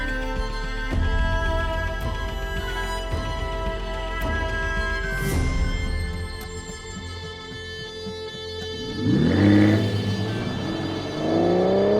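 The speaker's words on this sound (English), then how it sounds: "Let's take the classic Vanquish for a drive and find out." Engine of a classic Aston Martin Vanquish with ASM gearbox pulls away and accelerates on a drive, a steady rumble with rising revs and a sweeping gear-change surge near the end, close and fairly loud.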